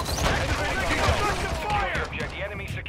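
Bursts of gunfire in Modern Warfare 2, the multiplayer shooter, crackling under and between talking voices that dominate the mix, fairly loud and steady across the whole stretch.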